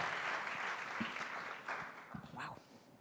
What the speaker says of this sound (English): Let's give a round of applause to Marta Ruiz, winner of Innovadores de América 2018 on social development.